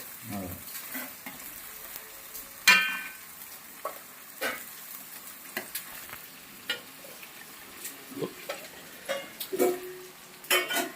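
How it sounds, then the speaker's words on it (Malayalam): Onions frying in a pan for chicken biryani, a soft background sizzle broken by repeated scrapes and clinks of a stirring ladle, nearby and without speech. "ചിക്കനുള്ള സബോള വറക്കുന്നു"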